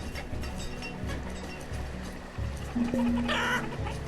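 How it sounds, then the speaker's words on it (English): Chickens cluck and a rooster calls in the video game Banished, amid busy game background noise, with a brief higher squawk near the end. "I hear the chickens."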